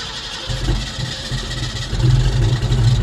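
A carbureted car engine turns over and catches after the gas pedal is pumped a couple of times, a loud close low rumble that swells and grows stronger toward the end, with no talk.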